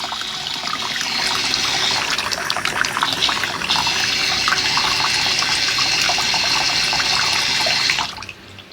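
Water pours and splashes continuously through a LEGO-built river fountain, a loud, steady rushing flow that cuts off near the end.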